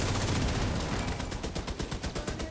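Automated turrets firing in a video game: dense, loud bursts of rapid gunfire, a continuous rattle that settles into a quicker, pulsing staccato toward the end.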